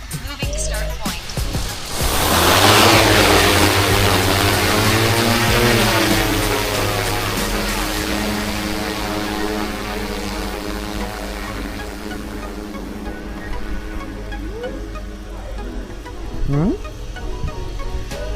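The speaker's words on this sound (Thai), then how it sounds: "ตอนนี้โดรนของเราก็ได้บินขึ้นสู่อากาศแล้วเนาะ" A DJI Matrice 350 RTK drone carrying a Zenmuse L2 LiDAR lifts off, its propellers winding up into a loud, steady buzzing whine with layered harmonic tones that swell after a couple of seconds and then hold close by, with a few faint background sounds.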